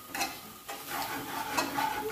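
Spices and masala, including garam masala, tikka masala and red chilli powder, stir-fry in a pan for a spicy goat boti salan, with a soft sizzle and scraping stirs close by and fairly quiet.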